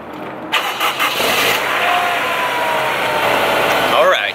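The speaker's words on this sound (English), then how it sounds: "this is the cold startup on a 2002 Honda S2000" A 2002 Honda S2000 cold-starts: a starter cranks briefly, the engine catches with a sharp flare-up, then settles into a steady, fairly loud high idle close by, with a voice talking over it.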